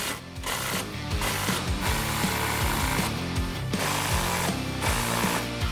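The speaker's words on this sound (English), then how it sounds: "we're gonna use this riv nut tool that Artec provided, and it works really well" Riv nut tool cranking rivet nuts into a Jeep Wrangler Rubicon body panel: close, steady repeating ratchety mechanical clicks and gear-like whirring cycles, each lasting about a second, with no talking.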